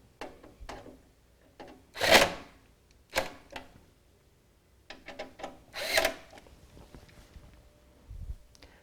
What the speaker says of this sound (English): And then let's make sure all the others are torqued down the same. And you do hear the screwdriver shuts off when it hits a certain torque setting.